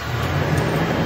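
A 5th-generation Toyota 4Runner engine starting on its first start of the day, then running with a steady low rumble and broadband noise, close by and fairly loud, with no voices.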